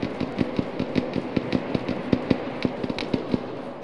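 Rapid bursts of gunfire in Arma 3 shot at a white-and-blue helicopter, a steady rhythm of sharp cracks about every fifth of a second, close and loud, with no talk over them.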